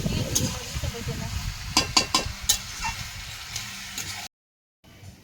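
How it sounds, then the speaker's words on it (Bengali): Mutton being stir-fried in a pan, cooked down slowly for a long time, gives a steady close sizzle with a few sharp stirring scrapes, then cuts briefly to silence near the end. "খাসির মাংস তো অনেকক্ষণ ধরে না কষালে ভালো লাগবে না।"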